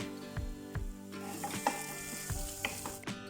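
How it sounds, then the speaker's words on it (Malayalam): Garlic and finely chopped ginger sauté in hot oil, with a steady sizzle broken by several soft stirring knocks and scrapes of a utensil against the pan, close and moderately loud, with no talking. "ചെറുതായിട്ട് അരിഞ്ഞിട്ടുള്ള 1 ടീസ്പൂൺ ഇഞ്ചിയും കൂടി ചേർത്ത് കൊടുത്തിട്ട് ചെറുതായിട്ടൊന്ന് വഴറ്റിയെടുക്കുക"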